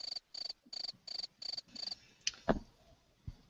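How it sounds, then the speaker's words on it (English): Crickets chirp in a quick, regular series of six high-pitched pulses, fairly close, followed by a couple of soft knocks and quiet background. "That's just crickets."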